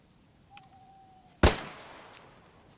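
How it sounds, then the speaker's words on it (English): A single loud, sharp unsuppressed pistol shot in DayZ cracks out and decays in a short echoing tail, preceded by a faint brief tone in otherwise quiet surroundings. "I'll fire a unsuppressed pistol shot"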